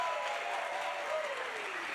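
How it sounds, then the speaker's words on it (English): Applause from a wrestling crowd, a steady broad wash of clapping sustained throughout at moderate level, with a faint tonal sweep beneath it. "a round of applause"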